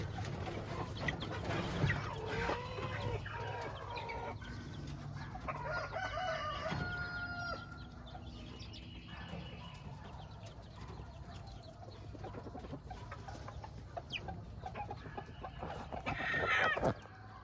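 Backyard chickens cluck and a breeding rooster crows, with calls scattered across a long stretch at moderate distance over steady background noise.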